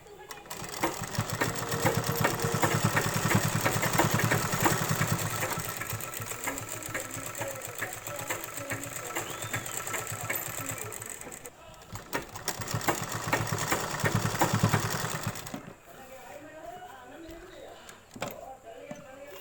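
An electric sewing machine stitches a petticoat in a steady, loud, close whirring run that pauses briefly, resumes, then stops, with a voice talking over parts of it.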